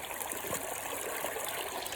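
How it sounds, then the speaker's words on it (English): A small creek flowing steadily, a continuous close babble and trickle of water over stones with no voices. "All right, I'm down at the stream."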